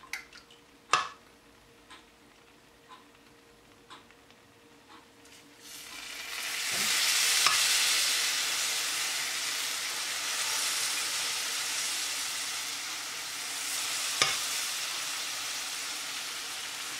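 A few light taps and drips, then a loud steady sizzle erupts as cold syrup hits hot baklava fresh from the oven, hissing continuously with a brief crackle later.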